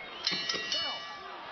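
A boxing ring bell rings with a few quick metallic dings at the end of a round, with crowd noise and a voice underneath.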